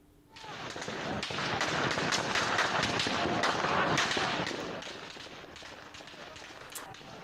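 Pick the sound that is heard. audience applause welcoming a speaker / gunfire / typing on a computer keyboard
gunfire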